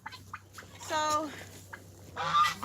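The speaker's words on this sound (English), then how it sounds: "this is one of my Americana roosters that was supposed to be a hen. Well, it was actually supposed to be an Americana, but he's growling." An Americana rooster growls in a few short bursts, with a rasping, honk-like burst in the middle and another near the end, close and fairly loud over a low steady hum.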